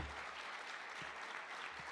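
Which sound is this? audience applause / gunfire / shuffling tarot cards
audience applause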